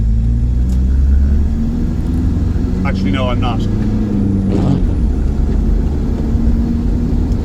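A VW T3 van with a TDI diesel engine heading onto a motorway, its low engine rumble and road noise steady throughout with a brief spoken remark over it.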